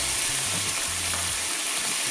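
Lobster pieces glazed with yuzu juice sizzle in a hot pan, giving a steady, close hiss of frying with low bumps as the food is moved around, no voices over it.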